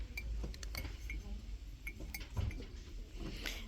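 Porcelain mugs on a store shelf clink lightly several times as one is lifted down, small sharp ceramic taps over a low background hum.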